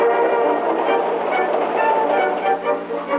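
A freight train rolls into a busy rail yard with a steady, loud, continuous rumble and clatter of cars and some tonal squeal. No one speaks.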